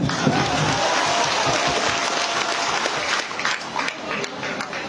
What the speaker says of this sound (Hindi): भाई के लिए ताली नहीं बजता है क्या?